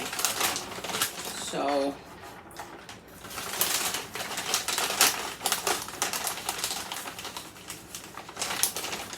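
Knife chopping walnuts on a cutting board, rapid irregular close taps and crunches repeating throughout, with a voice briefly speaking at the start.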